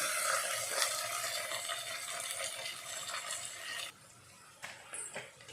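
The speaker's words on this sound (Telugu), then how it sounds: "ఒకసారి కలిపేస్తున్నాను నేను" Ivy gourd fry being stirred in a pan, a dense hissing sizzle with scraping strokes that cuts out briefly near the end before a few quieter scrapes resume.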